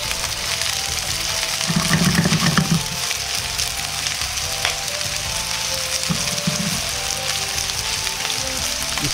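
Large shell-on shrimp and their simmered shells fry in a pan for shrimp curry, giving a steady close sizzle with a couple of louder bursts as they are stirred or moved.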